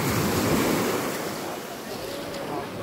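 Ionian Sea waves wash and surge beside a cruise boat, a broad continuous rush of surf with some wind noise, loud and close, no talking.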